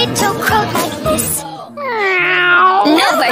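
A cat's meow in a children's farm song, a drawn-out tonal cry that follows a stretch of sung or spoken lines, loud and close.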